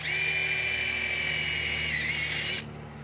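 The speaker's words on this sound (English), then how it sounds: "we're going to do a quick layout and use a 3/16 bit and drill." A power drill with a 3/16 bit pre-drills a hole in a TimberTech composite deck rail, a high steady whine running about two and a half seconds before stopping abruptly, close and alone.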